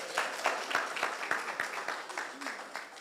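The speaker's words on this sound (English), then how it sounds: "give them a round of applause" Audience clapping at the opening ceremony of a co-operative education internship fair, a moderate round of scattered, uneven claps with some voices mixed in.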